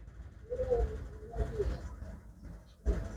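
Pigeons kept for flying coo in soft, low murmurs in a couple of short bursts, close by, with background noise and no clear talk.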